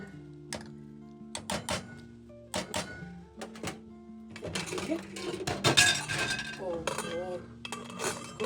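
Spinach and green onions being mixed in a dish, heard as close clinks and knocks of utensils against the container in uneven bursts, growing busier and more rattly toward the end; no speech.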